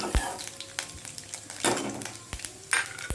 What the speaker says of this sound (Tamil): அதனால் கடலைப்பருப்பு 2 ஆட் பண்ணியிருக்கேன். நல்லா பொரியட்டும்.